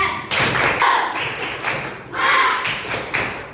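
Children in a classroom perform a rhythmic clapping chant, loud, close sustained group claps in repeating patterned bursts with voices blended in.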